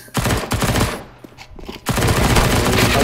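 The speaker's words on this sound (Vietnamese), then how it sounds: "Đấu súng." Bursts of automatic and rapid gunfire from the video game CS:GO, loud and close, with a brief lull before sustained firing resumes.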